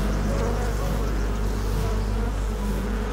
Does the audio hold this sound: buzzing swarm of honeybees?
yes